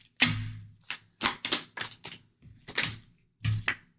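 Quick papery slaps and riffles of tarot cards being shuffled close up, in irregular bursts of several taps each.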